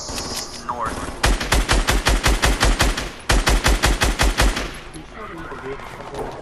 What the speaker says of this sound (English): Oh, I'm getting shot from behind.